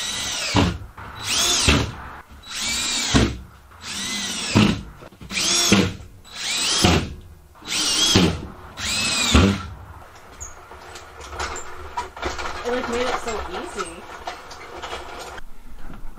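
A power drill drives screws into drywall during a home renovation in about eight rhythmic whirring bursts, each winding up and down, followed by quieter shuffling and people talking.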